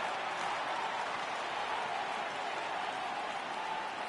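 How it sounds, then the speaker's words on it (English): A virtual baseball stadium crowd rises in a video game on a 3-2 count, giving an even, continuous roar of applause and cheering at moderate level throughout. "Crowd gets up for the 3-2."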